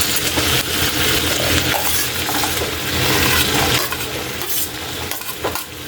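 Onions sauté in a pan, giving a loud, continuous hiss and crackle close by, with occasional clinks of a utensil against the pan and no voices.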